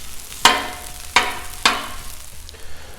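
Fried rice made with turkey sizzles on a hot Blackstone griddle, with three sharp scraping stirs of a spatula, each followed by a fading hiss, close and clear with no talk.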